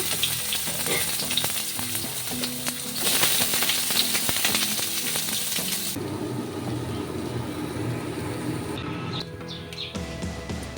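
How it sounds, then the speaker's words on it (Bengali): Eggplant slices frying in hot oil in a home kitchen, a steady loud crackling sizzle that swells midway and then settles into a lower, bubbling fry with occasional stirring clinks. "এই তেলেই আমি এখন বেগুনগুলোকে ভেজে নিব"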